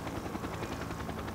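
Rapid rhythmic thudding of a news helicopter's rotor as it flies over Whitehall in London, a steady pulsing beat against the engine drone, continuous throughout.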